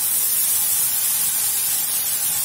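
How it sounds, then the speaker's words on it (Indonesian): Spice paste for seafood tom yam sautéing in a pan, a steady dense sizzle and hiss that stays loud and even throughout with no pauses. "kita akan tumis dulu bumbunya, bumbu paste-nya ya teman-teman."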